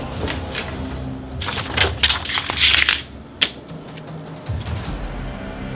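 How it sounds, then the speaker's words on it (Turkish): A cardboard parcel box is lifted and handled, giving scattered crinkly scrapes and rustles with a couple of sharp knocks, fairly close and moderately loud, no talk. "Kutuyu kaldırıyorum."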